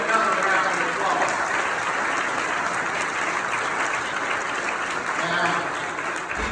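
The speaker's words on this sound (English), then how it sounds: "Give them another round of applause." Sustained applause from a congregation at an MLK commemorative service, dense even clapping that holds steady throughout with a few voices mingled in, easing slightly near the end.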